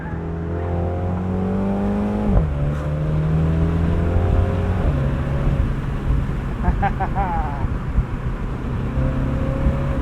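A 2022 MINI Cooper John Cooper Works Convertible with an 8-speed automatic drives with the top down at night, its engine droning loud and close as it climbs through gears, with audible shifts dropping the revs twice.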